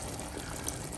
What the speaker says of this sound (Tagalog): Ninagyan ko ng tubig ang pinaglagyan ng sardinas.